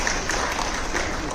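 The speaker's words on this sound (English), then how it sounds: "Big round of applause" Audience applause at a film interview event, a brief dense burst of clapping filling the room with crowd noise.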